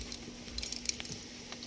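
Ignition keys jangling by a dump truck's ignition switch during repair of a HOWO 380, a series of light metallic clinks and rattles close by, clustered in the middle and trailing off.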